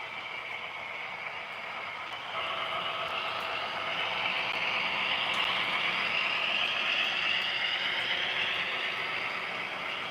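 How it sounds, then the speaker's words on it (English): A model train locomotive runs steadily on the track nearby, a continuous whirring motor with rolling wheel clatter that gets slightly louder partway through and keeps on evenly. "Just trying out a new locomotive that I bought months ago."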